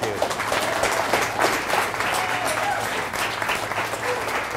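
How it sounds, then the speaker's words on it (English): An audience applauds to welcome a presenter at a Gano Excel presentation, dense steady clapping from a crowd that continues loudly throughout without a break. "please put your hands together and help me introduce Mr. Mike Paramoto"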